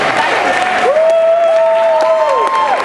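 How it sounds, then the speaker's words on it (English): Applause and cheering for ballroom dance couples at a collegiate competition, a steady crowd wash running throughout with a sustained tonal sound, likely music, gliding over it. "Let's give them all a big round of applause."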